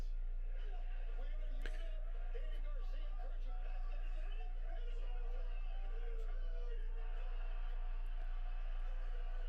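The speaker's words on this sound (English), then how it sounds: "And this crowd just erupted" Crowd noise fills a wrestling arena during an AEW Darby Allin versus PAC match, a loud continuous roar of cheering and chatter that holds steady throughout with no lull.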